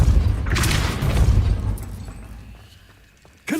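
A Depulso repelling spell in Hogwarts Legacy lands as a deep booming whoosh that swells and fades over a few seconds, followed by a sudden sharp burst at the end.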